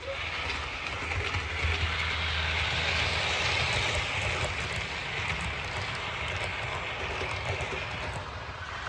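A model railway train runs steadily on a home layout, giving a continuous close rumbling whir with faint rhythmic clicking that holds even throughout.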